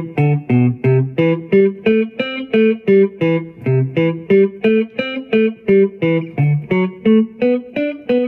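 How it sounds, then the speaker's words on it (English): Electric guitar with a distorted, effects-laden tone plays a blues pattern in a straightforward driving rhythm, each note of the pattern struck once in steady, even attacks, loud and alone. "we'll be doing it with a more straightforward driving rhythm and only playing each note of the pattern once."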